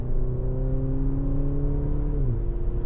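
A Maserati Grecale Modena SUV engine accelerates steadily, a loud close drone whose pitch rises evenly, then dips briefly near the end as if shifting gear, with no talking.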